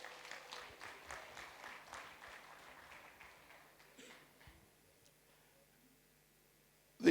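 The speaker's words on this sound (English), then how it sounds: "So please give him a hand of applause." Applause at a fundraising dinner dance for the chairman, a burst of clapping in distinct rhythmic waves that gradually thins and fades to near silence before a sudden loud knock at the very end.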